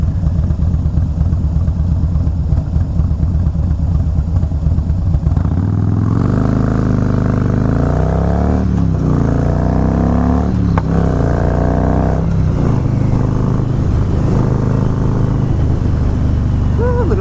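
A Harley-Davidson Fat Boy motorcycle is heard up close while riding, first a low steady idle-like rumble, then rising and falling revs with clattering engine noise for the rest of the ride.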